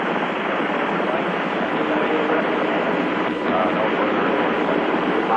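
A recovery helicopter hovers over a Mercury spacecraft during the Liberty Bell 7 mission, heard as a loud, steady broadband rotor and engine roar that runs unbroken throughout.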